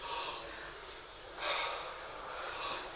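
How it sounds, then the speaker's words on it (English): During a group breathing exercise, a few quick, forceful inhales rush in as breathy, hissing bursts, with brief pauses between them and no talking. "Everybody breathe. Fast inhale and fast Fast inhale."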